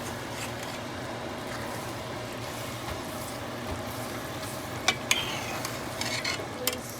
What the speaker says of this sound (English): Alright, Dazer, so I'm gonna add a little bit of the liquid from the Kobe fish. I'm gonna add a little bit of that in there